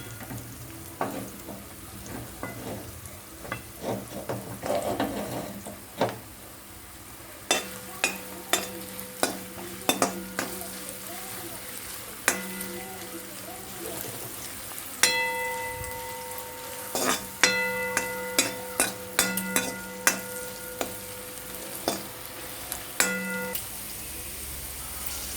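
Vegetables for veg fried rice frying on high flame in a pan, a steady sizzle punctuated by many quick metallic clanks and scrapes of a spatula against the pan, close and busy.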